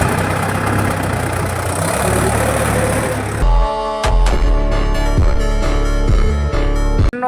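A tractor engine runs steadily with a loud, close rumbling drone. Partway through, the tone shifts to a harder, throbbing chug that carries on without any talk.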